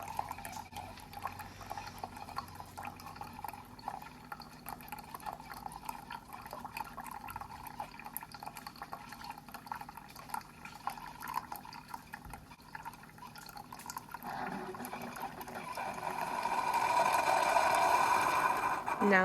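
A coffee pod machine brews into a small cup, a steady hiss and trickle of liquid that swells louder near the end, with a person talking over the flow.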